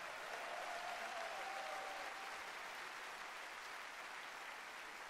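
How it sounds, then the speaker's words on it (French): Rally crowd at an Eric Zemmour Reconquête anniversary meeting applauding the party's vice-presidents, a steady wash of distant, even clapping from a large hall audience that holds level throughout. "Vous pouvez les applaudir."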